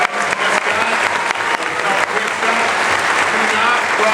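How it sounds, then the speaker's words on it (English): A Comic-Con panel audience at San Diego Comic-Con 2013 claps for Mattel and Warner Brothers, with thick, lively applause from a big hall and some crowd voices mixed in, lasting a few seconds. "I want you all to give a little round of applause to Mattel and Warner Brothers."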